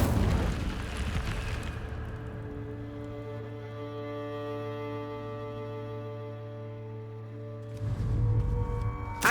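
A fire spell cast in the Hogwarts Legacy video game: a loud burst at the start, then a sustained magical tonal hum with steady humming harmonics that fades, followed by another burst near the end.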